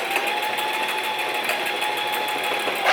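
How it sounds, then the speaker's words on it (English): A sewing machine stitches a fabric face mask in white thread, its needle running in a fast, even whirring rhythm for the whole stretch, close and steady with no talking. "So I'm going to stick this in my sewing machine."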